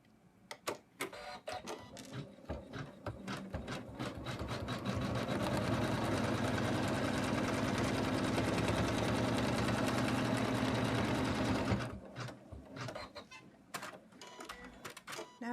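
An embroidery machine stitches an in-the-hoop snowman stocking, its rapid needle chatter building from brief bursts into a loud, steady mechanical whir for several seconds before stopping and giving way to scattered clicks.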